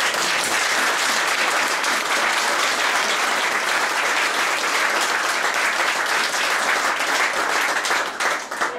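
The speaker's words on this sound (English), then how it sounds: "Let's have a round of applause." A class reunion crowd gives a long, loud round of applause, a thick unbroken wash of clapping from many hands that holds steady throughout and fades only at the very end.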